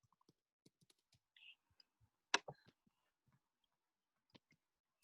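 Scattered, faint clicks from typing on a computer keyboard arrive at an irregular pace, with one sharper tap standing out midway against an otherwise quiet background.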